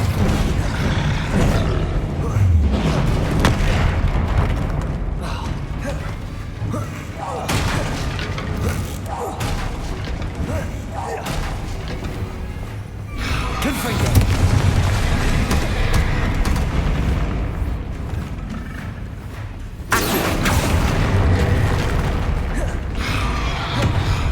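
Spell blasts and explosions in Hogwarts Legacy: repeated booms, thuds and crackling impacts over continuous combat noise and music, loud and dense throughout, with voices shouting over the action.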